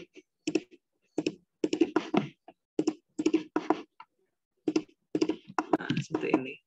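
A command is typed on a computer keyboard in AutoCAD, with clusters of quick close key clicks and taps separated by short silences.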